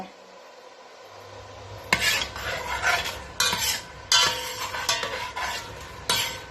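A pot of pineapple curry simmers as a spoon stirs it in bursts, with repeated scraping and clinking against the pot over a soft bubbling hiss.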